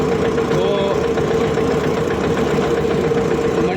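A tractor engine runs steadily on the way to the grain market, hauling paddy, giving off a loud, even, throbbing hum with no break throughout.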